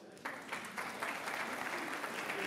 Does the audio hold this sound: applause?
yes